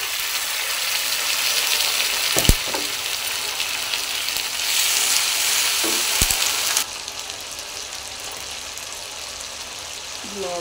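Ginger-garlic paste fries with onions in a pan, making a close, continuous sizzle with sharp utensil clinks and stirring scrapes, and the sizzle softens partway through.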